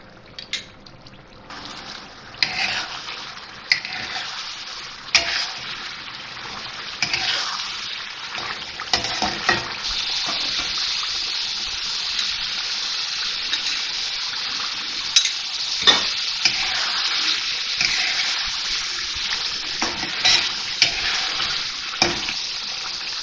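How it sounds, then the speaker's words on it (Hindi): Mutton karahi frying in a pan as yogurt is added bit by bit, giving a steady close hiss and sizzle with scattered clinks and scraping stirs, and no talking. "और अब मैं दही डाल के थोड़ा थोड़ा फिर इसकी भुनाई करूँगी।"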